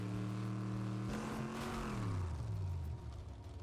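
A car engine in the Fortnite battle royale game runs steadily and loud, its pitch climbing as it revs up and then dropping away, heard alone without speech.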